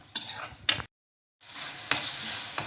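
Masala with salt and cream being stirred and fried in a pan for a soya chaap curry, a scraping, sizzling stir with a few sharp spoon clinks, broken by a brief silent gap before the stirring resumes.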